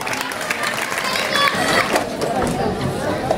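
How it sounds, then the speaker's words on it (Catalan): Crowd at a local festival casting event applauds two young people, a busy wash of clapping mixed with crowd chatter and voices at moderate distance. "Un fort aplaudiment per ells."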